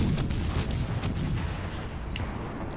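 Battleship guns firing in the World of Warships Legends naval game, several sharp booming shots in quick succession over a constant rumbling background, followed by quieter rumble.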